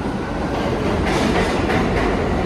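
A New York City subway train rumbles past on the rails, loud and steady with a continuous clatter and hiss throughout, no talk.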